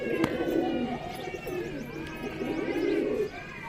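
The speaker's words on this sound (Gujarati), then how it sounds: "અવાજો આવે આપણા કબૂતરનો." Domestic pigeons coo repeatedly from a rooftop beside a factory, a steady run of soft, rolling calls overlapping one another at close to moderate distance.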